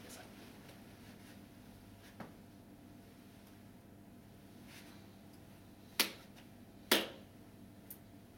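Two sharp, separate hand claps, a second apart, ring out in a hushed setting during a Shinto purification rite, following the bow-bow-clap-clap-bow form. A few faint taps come before and after.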